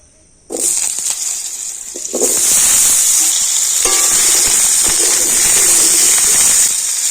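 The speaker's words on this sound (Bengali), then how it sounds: "ওই তেলের মধ্যে আলু ভেজে নেব" Medium-sized potato pieces dropped into a little hot oil in a kadai set off a sudden loud, steady sizzle that swells after a second addition and holds, with faint stirring scrapes.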